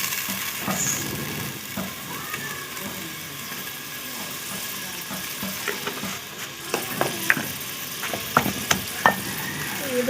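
Rice cooks and is stirred in a pan, giving a soft continuous sizzle with scattered scraping and clinking strokes of a utensil that grow sharper toward the end, close and fairly quiet.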